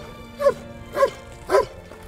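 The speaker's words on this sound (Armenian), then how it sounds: "Շունը մարդու լավագույն բարեկամն է" A rescue dog of the emergency ministry's canine unit barks three times at even intervals, clear, close and moderately loud over a quiet background.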